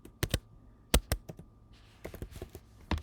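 Typing on a computer keyboard, with short bursts of crisp, close key clicks in an uneven rhythm and brief pauses between groups, no talk.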